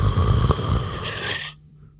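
One loud, close snore rattles for about a second and a half, then cuts off into near silence.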